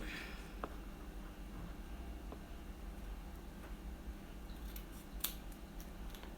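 Scissors snip through a Braille label with a few soft, sparse clicks and cuts against a quiet hiss of room noise.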